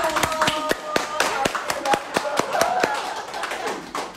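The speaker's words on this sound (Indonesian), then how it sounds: "Oh, tepuk tangan lagi." Scattered applause from an audience at a live cast event for the film Adagium, distinct hand claps ringing out in an uneven patter over about four seconds, with voices talking faintly underneath.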